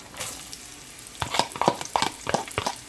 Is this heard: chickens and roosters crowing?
no